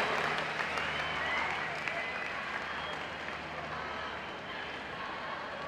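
An audience applauds actors at a youth meeting in Verona, producing a fairly faint, continuous wash of clapping that slowly fades, with a low hum underneath.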